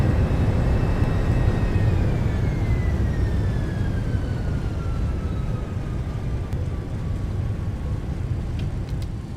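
An MD-11F rolls out after landing in X-Plane 12 with spoilers deployed and manual braking, a steady heavy rumble of engines and wheels under a slowly falling turbine whine, loud and continuous.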